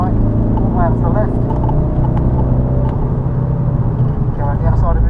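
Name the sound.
car accelerating on Snetterton race track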